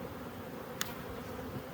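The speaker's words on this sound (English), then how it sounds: "The bees are happy." Honey bees hum softly in an open hive during a winter inspection, a faint continuous buzz with one brief click partway through and no voices.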